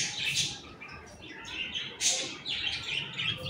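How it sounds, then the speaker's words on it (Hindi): Pet parrots kept in a home gallery chirp and squawk repeatedly in bright, overlapping calls at moderate distance, continuous throughout with no speech. "और यहाँ गैलरी में हमारे हैं तोते जो कि खुश लग रहे हैं काफ़ी"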